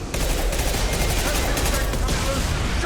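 Continuous rapid automatic gunfire from a Mass Effect 2 firefight, dense and loud throughout, a relentless rattling stream of shots bringing down an enemy, with voices in the game talking under it.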